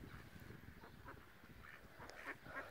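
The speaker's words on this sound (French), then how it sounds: "T'as vu les canards, Fabio?" Faint ducks quack intermittently in the distance over a steady outdoor background noise.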